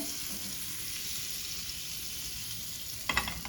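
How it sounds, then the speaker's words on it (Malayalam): Butter melting in a hot pan for masala bread gives a steady, even sizzle throughout, with a brief clatter of utensil stirring near the end. "ഈ ബട്ടർ ഒന്ന് മെൽട്ടായിട്ട് വരട്ടെ"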